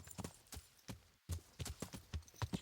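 Horse hooves clip-clop in Kingdom Come: Deliverance, a steady, quick run of close, moderately loud hoof strikes with one brief pause and no talking.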